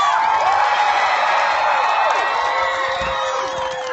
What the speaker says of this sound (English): How about a huge round of applause for the man of the hour, Mark Hamill?